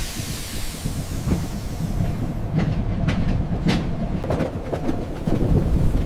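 A luxury train rolling through the snowy Balkan Mountains, a loud continuous rumble with scattered clicking and clacking of the cars, no voices.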